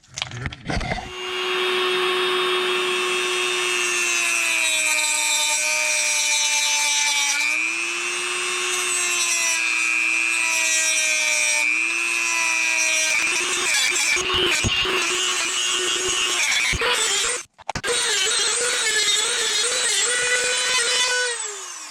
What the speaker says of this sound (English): So I'm going to grind both the inside and the outside.